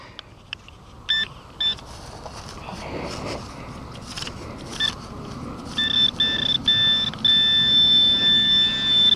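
A Garrett metal detector sweeps over a buried target outdoors, giving short repeated beeps that become a sustained steady tone toward the end amid rustling and handling noise.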